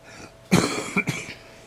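A couple of harsh coughs close by, one strong burst followed by two shorter ones, then quiet.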